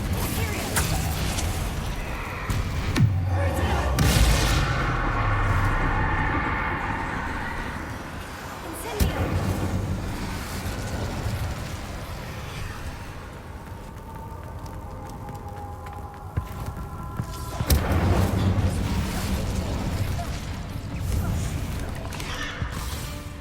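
Confringo fire spells blast during a Hogwarts Legacy battle arena fight, loud bursts and impacts over game music, with a strong burst near the start and another toward the end, and someone talking over parts of it.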